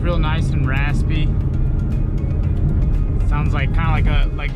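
Exhaust of a Procharged Ford Mustang 5.0 V8 rumbles steadily and loudly throughout, with a raspy low burble heard from inside the car under someone talking.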